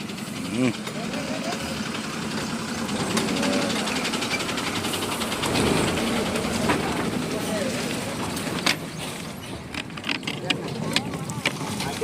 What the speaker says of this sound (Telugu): బస్సు వస్తుంది బస్సు వస్తుంది బస్సు